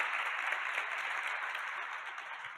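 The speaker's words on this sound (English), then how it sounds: "Can I get a quick round of applause for our panelists real quick?" A quick round of audience applause for panelists at a policy discussion, dense even clapping from a room of people, steady and fading slightly at the end, with no talking.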